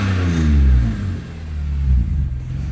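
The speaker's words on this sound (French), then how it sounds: "je vais juste mettre quelques coups de gaz et..." A poorly running BMW M3 engine revs up and down twice, rough and rumbling at close range, with a slightly uneven idle between the pulls.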